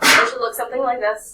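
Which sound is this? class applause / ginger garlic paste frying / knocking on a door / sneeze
sneeze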